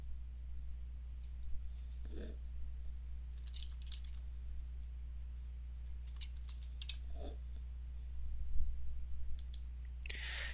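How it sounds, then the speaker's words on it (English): Mouse double-clicks and keyboard key taps while renaming entities in Visio 2013, heard as sparse, faint, close clicks scattered over a steady low hum with no speech. "I'm changing the name of these entities simply by double-clicking on the entity name and then typing in a new name."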